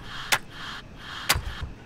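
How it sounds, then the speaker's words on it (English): Two sharp, snappy clap hits from a looped electronic drum pattern, spaced about a second apart, dry and fairly close with a faint background hum between them. "this clap loop"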